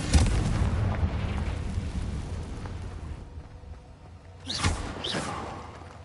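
The Confringo fire spell from Hogwarts Legacy bursts in a loud, rumbling blast that decays over a few seconds, followed by a second, smaller boom with a crackling tail near the end.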